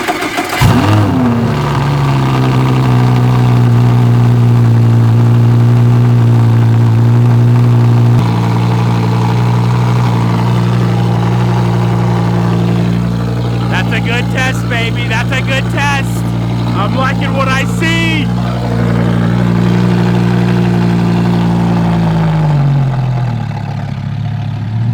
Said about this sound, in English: get the first cold start on the Gallardo, get our first test done right now